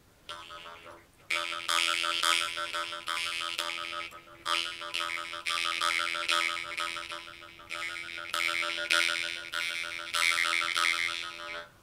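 A jew's harp is played with quick tongue movements, giving a rapid rippling, chopped twang in steady bursts with brief pauses between phrases.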